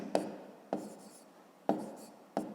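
Handwriting math on paper gives four short, soft scratching strokes close by, spaced unevenly with quiet gaps between, and no voice heard.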